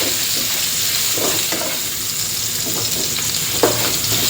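Chili and garlic fry in a pan for pork and shrimp basil fried rice, a constant close sizzle with a few scraping stirs on top and no talking.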